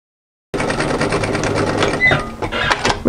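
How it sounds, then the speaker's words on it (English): A sewing machine runs a line of stitching through the overlocking line on a dolman batwing top, starting abruptly after a brief silence with a loud, close, steady mechanical whir that continues to the end. "all we're going to do now is stitch a line of stitching through the overlocking line all the way around"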